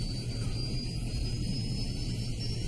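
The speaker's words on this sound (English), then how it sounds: "taking the steps to fire up the second engine" Steady, loud jet engine roar from a TACA Flight 110 airliner as its second engine restarts, a continuous dense rumble with a thin high whine running through it.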